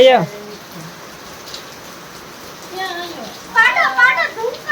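Heavy rain hisses softly and evenly in the background while children's voices chatter over it in short, lively bursts.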